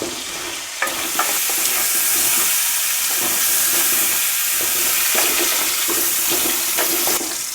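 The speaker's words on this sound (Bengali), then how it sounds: "দিয়ে আলুটাকে ভেজে নেবেন।" Potato pieces frying in oil seasoned with a little salt and turmeric for aloo dum, giving a loud, continuous close sizzle with faint stirring clinks and no talk.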